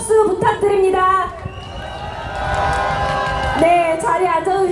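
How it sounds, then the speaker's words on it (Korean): A candlelight protest rally crowd outdoors breaks into loud cheering and applause, swelling in the middle, with a voice speaking over it at the start and end. "다시 한번 큰 박수 부탁드립니다"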